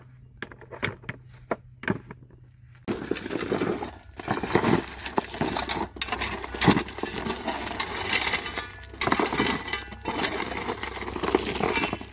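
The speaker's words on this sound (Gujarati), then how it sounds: "આપણે મોટા પથ્થર મિત્રો વાં ઠલવી નાખ્યા જોરિયો ઢગલો" Large stones are tipped from a tractor into a heap on a farm: after a quiet start with a few light clinks, a sustained crashing, clattering tumble of rock follows with repeated sharp impacts, fairly close and loud.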